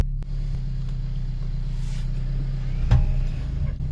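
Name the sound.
wrecked BMW M2 driving forward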